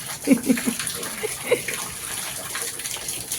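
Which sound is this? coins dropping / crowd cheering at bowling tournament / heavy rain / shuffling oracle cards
heavy rain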